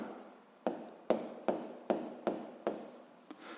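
A pen or chalk taps and strokes through a seventh-grade physics problem solution in a steady rhythm of about seven crisp, evenly spaced marks, close and alone with no talking.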